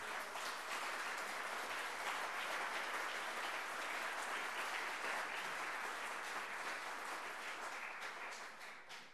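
A conference audience at a political party's annual plenary claps in a steady, even roar of many hands for several seconds. The sound is fairly faint and distant, then tapers off at the end.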